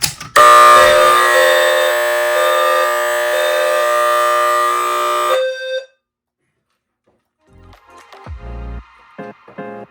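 A piercing fire alarm horn strobe (P2RH) blares continuously for about five seconds, loud and close, rumbling the floor and wall, then stops, followed by faint scattered knocks and rustles.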